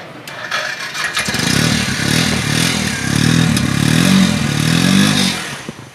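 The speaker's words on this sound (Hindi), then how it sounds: "तो इसका ज़रा सेल्फ स्टार्ट तो चेक कर लें।" A used Suzuki GD 110 motorcycle is started with its electric self-starter: a brief whirring crank, then the engine catches into a steady, close, rumbling idle with some mechanical clatter.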